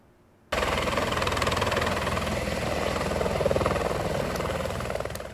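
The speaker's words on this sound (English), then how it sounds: "The joint session involved the firefighters assisting in a medical helicopter landing" Medical helicopter landing during a firefighter training session, its rotor making a loud, steady, rapid chopping thump with engine whine, close and continuous from an abrupt start.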